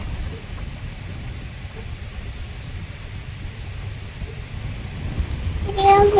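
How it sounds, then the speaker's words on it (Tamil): Rain falls during an outdoor trip to Malampuzha Dam, giving a steady hiss of drops that builds slightly toward the end. A brief faint voice cuts in near the close. "மழை வருது."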